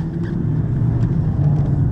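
Truck gradually picking up speed while driving, heard from inside the cab as a continuous low engine rumble that builds slightly, with no talking.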